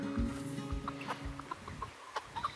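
A wheaten mottled Ancona bantam hen clucking nearby, a few soft, scattered clucks over a low background hum.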